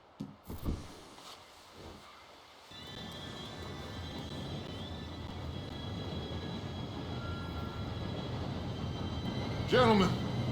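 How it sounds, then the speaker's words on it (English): A train rumbles in steadily as it arrives in the Western game Red Dead Redemption 2, a broad rolling noise that swells over several seconds and ends with a horse whinny, following quiet low talk at the start. "Train should be here any minute now."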